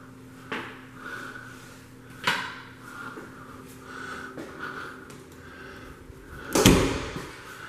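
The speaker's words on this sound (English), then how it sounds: "Door closed." An interior door in a newly built home closes with a couple of sharp knocks, along with other soft bumps and a louder clunk near the end, heard up close in a quiet room.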